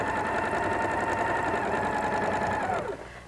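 A sewing machine runs steadily, stitching quilt pieces together in one continuous loud whirring run that slows and stops at the end.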